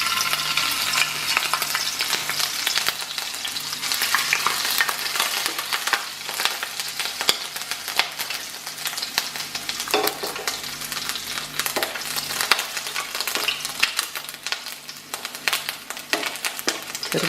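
Ginger sizzles in hot coconut oil for kappa biriyani, a steady crackling fry with bright spitting pops and occasional stirring scrapes, close and continuous without talk.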